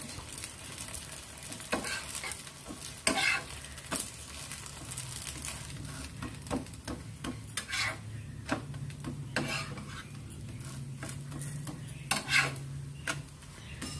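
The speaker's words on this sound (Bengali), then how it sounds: "দুই পিঠ ভালো মতো সেঁকে নেবার পর সামান্য সামান্য তেল দিয়ে লাল লাল করে ফ্রাই করে নেব" Semolina and potato breakfast cakes fry in a little oil in a pan, a steady low sizzle under scattered scraping and clicking from a utensil turning them, close by and without speech.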